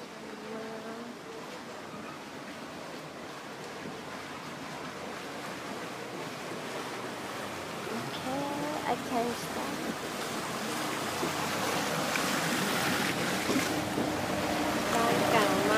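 A boat cruises along a canal in Venice, Italy, with a steady engine and water rumble under wind buffeting on the microphone. It grows gradually louder and busier toward the end.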